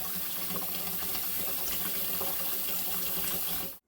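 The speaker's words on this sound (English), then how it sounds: "then I'm just going to drain them in a colander" Boiled egg noodles are drained in a colander, a steady rush of pouring water splashing close by for several seconds before cutting off abruptly.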